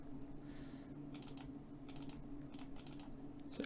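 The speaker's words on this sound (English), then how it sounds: "If I hit F on the keyboard" Keystrokes clatter on a computer keyboard in short bursts of several clicks, with pauses between groups, over a steady background hum.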